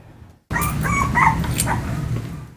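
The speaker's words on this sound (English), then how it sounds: "The cries of a litter of puppies as they play with their siblings." A litter of puppies cries, yips and whimpers while playing with their siblings, a dense overlapping chorus of high, close calls that starts abruptly and carries on continuously.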